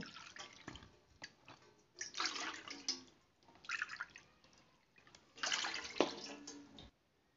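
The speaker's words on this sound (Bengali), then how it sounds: "এবার ওই পাত্রতে এই বাটি মেপে 3 বাটি জল দেব।" Water is poured from a bowl into a cooking pot in a village kitchen, making soft, close splashing and trickling in several uneven bursts, fairly quiet.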